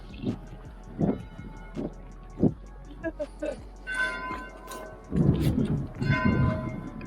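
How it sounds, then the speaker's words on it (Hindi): Church bells ring across a Copenhagen square near the Queen's palace during the changing of the guard, a series of spaced, resonant strikes under a person talking close by, with crowd and street noise around. "कलीसा की घंटियां भी साथ में बज रही हैं"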